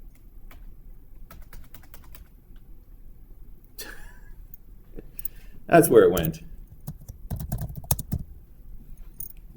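Sparse, intermittent clicks of typing on a computer keyboard, heard close but soft. A person talks over part of the keystrokes.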